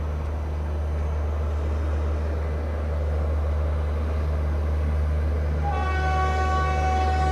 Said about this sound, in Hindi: क्या आवाज़ आ रही है जनरल कार की, देखो।